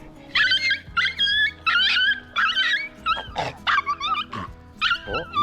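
A dog whines and yelps in a rapid, high-pitched series of cries mixed with short barks, close and loud, while another dog is nearby.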